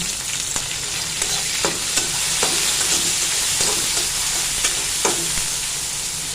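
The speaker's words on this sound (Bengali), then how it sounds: "এটা দিয়ে চিংড়ি মাছ দিয়ে ভাজি করবো" Shrimp frying with pointed gourd, potato and eggplant in a pan gives a steady loud sizzle, broken by repeated sharp clacks of a spatula stirring at a rough, irregular pace, with no voices.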